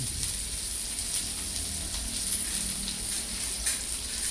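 Onion, curry leaves and two green chilies frying in a pan for a spicy drumstick chicken curry, giving a steady, even sizzle with faint crackles throughout and no voices.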